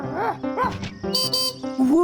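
A cartoon puppy barks in a series of short, bright yips and woofs with rising and falling pitch, close and clear, some sounding voiced like an actor's imitation, with no talk in between.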